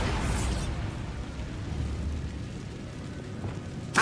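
Bombarda spell blast in Hogwarts Legacy, a burst at the start that fades into a low rumbling bed, with a sharp bright crack right at the end.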